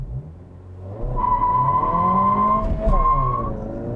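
A 2022 Honda Civic Si launches from a standstill with the clutch feathered at 3,000 RPM, the engine holding a steady high drone and then rising, with some tire noise underneath, heard close and loud.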